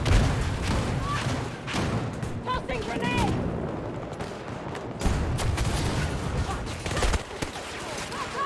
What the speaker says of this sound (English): Another grenade coming in.